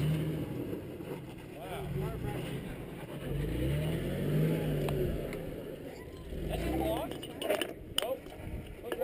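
Toyota FJ off-roader crawling over slick rock on a trail, its engine droning and revving in uneven surges, fairly close, with people talking over it.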